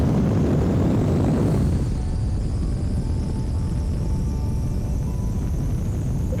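A rocket launch in Kerbal Space Program gives a loud, steady engine roar with dense rumble. It is strongest in the opening seconds, then continues as an unbroken thrust noise, with no talking over it.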